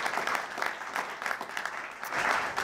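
Audience members at a bill-signing event at LSU clap for business leaders, a short burst of moderate applause with individual claps audible in uneven pulses.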